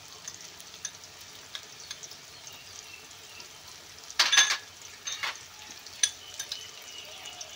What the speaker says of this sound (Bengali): এবার দিয়ে দিলাম দেখেন জিরে পেস্ট করা